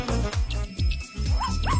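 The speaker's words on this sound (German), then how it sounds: "Ist das ein Hund?" A dog yips and whimpers in a dark indoor space, a few short high yelps and rising whines repeating over a busy, loud background of music and sound effects.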